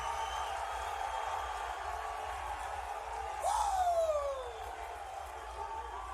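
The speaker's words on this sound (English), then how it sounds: "the Crowd's louder for Tony than they are for Justin Gaethje" A crowd roars and whoops for a fighter at a UFC 274 pre-fight press conference in Phoenix, with a loud rise of yells midway that sits over a steady background din.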